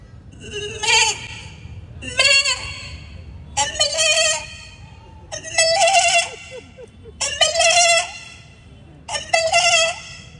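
A voice on stage in a school arts festival play imitates a goat bleating: six drawn-out, wavering bleats spaced about two seconds apart, loud and close, over a low background hum.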